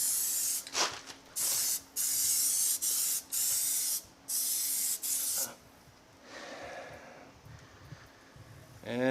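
Plasti Dip sprayed from an aerosol can onto car wheels, loud close hissing bursts in several long pulses with short gaps, then softer, more distant spraying trailing off.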